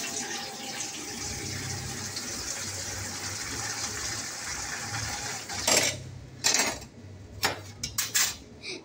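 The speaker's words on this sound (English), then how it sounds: "First, we're gonna fill the basin with water." Water runs steadily into a basin for washing dishes with a constant gushing hiss, then gives way to sharp clinks and clatter near the end.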